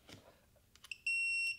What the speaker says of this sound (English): And you've got an LED and a buzzer